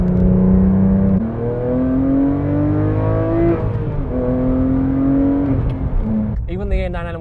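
Porsche 911 997 GT3 engine under way on the road, a steady mechanical note rising and falling through gear changes, with someone talking over it throughout.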